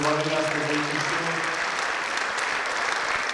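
Audience applauds a singer as he comes on stage at a folk music show, a dense steady wash of clapping filling the whole moment, with a held musical tone fading out underneath at the start.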